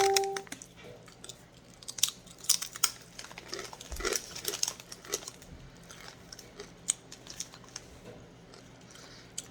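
Crisp, hard Pizza Crunch protein chips are bitten and chewed close to the mic, with repeated sharp crunches and softer grinding between them, no talking.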